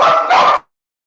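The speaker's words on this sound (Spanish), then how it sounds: "porque mis perritos allá ladran" A dog barks twice in quick succession, loud and close, the two short barks running together before cutting off to silence.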